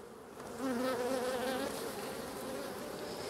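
Honeybees buzzing steadily at a beehive during winter preparation, a close, dense drone that swells briefly and then holds on its own without voices.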